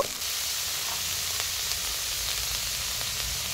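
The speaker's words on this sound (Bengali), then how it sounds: "এবার পেঁয়াজ ও কাঁচা লঙ্কার সঙ্গে ডাঁটিগুলো ভালোভাবে মিশিয়ে হালকা নাড়াচাড়া করে নিব" Vegetable stalks stirred with chopped onion and green chili in a hot frying pan give off a steady, close sizzle with faint scraping of the stirring, no voices.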